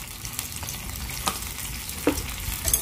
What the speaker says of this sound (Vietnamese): Rồi bây giờ mình sẽ quậy cái hỗn hợp này lên các bạn.